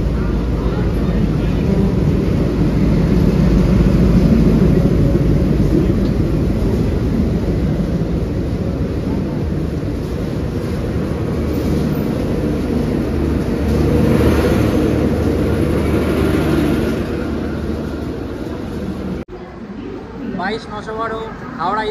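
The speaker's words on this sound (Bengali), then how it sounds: "আসছে 22-912 শিপ্রা এক্সপ্রেস" The 22912 Howrah–Ujjain Shipra Express rolls into the station with a loud, sustained rumble and rushing noise that fades near the end, while a person talks over it.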